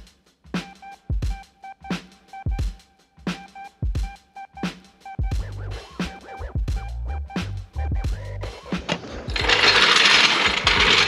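A hand tool works loose bolts on a motorcycle camping setup, making a run of sharp, evenly spaced ratcheting clicks and metallic scrapes up close, ending in a burst of harsh, steady rasping.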